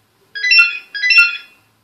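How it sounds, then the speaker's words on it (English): A phone ringtone beside a living-room gaming setup, two short bright electronic ring bursts in quick succession, clear and alone. "that's the phone"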